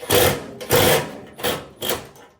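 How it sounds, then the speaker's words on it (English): Four bursts of a high, whirring power drill motor, each running about half a second with short pauses between, close by, during repair of an Electrolux speed oven. "Hold your drill still."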